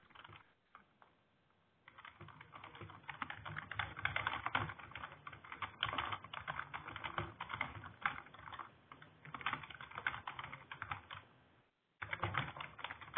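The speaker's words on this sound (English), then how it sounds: "think we've lost Britt to typing" Quiet, continuous clatter of fingers typing on a computer keyboard, steady bursts of keystrokes with a brief pause near the end, no talking.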